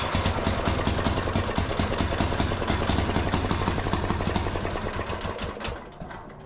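Diesel engine of a Gravely C10A tractor cranking and catching, a loud close rumble with rapid regular firing pulses that stay steady for several seconds before easing off slightly at the end.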